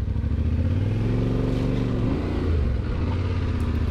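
A motorcycle rides a rough forest track on Vermont Class IV roads, its engine droning steadily up close and shifting pitch as the throttle rises and eases over about four seconds.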